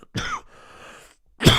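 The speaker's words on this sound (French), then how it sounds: "au cours de l'émission, je vais beaucoup tousser à cause de la forte angine qui me déstabilise" A man with a severe sore throat coughs, two harsh, close coughs separated by a short pause, with a faint rasping breath between them.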